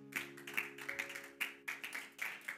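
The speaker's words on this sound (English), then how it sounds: "give God a hand clap of praise." Church congregation clapping hands in praise, a run of evenly spaced claps at a moderate pace, faint and distant over a soft sustained tone.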